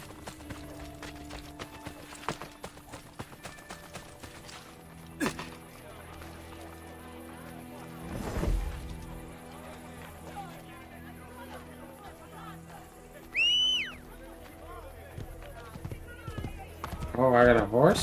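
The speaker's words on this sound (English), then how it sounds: "Oh, I got a horse?" In Assassin's Creed Brotherhood, a horse's hooves clip-clop and a neigh rises briefly near the end, all under someone talking over game sounds and scattered impacts.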